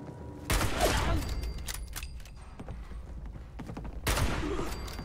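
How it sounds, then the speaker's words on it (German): Gunfire aimed at a bot in the Fallout 76 video game, two loud bursts of rapid shots, one early and one near the end, with scattered impacts and mechanical clatter between them. "Und dann die haben auf einen Bot geschossen."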